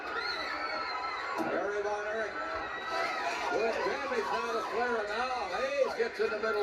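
A wrestling arena crowd roars and cheers with rising, wavering yells across the whole stretch, close and dense, while a commentator talks over it.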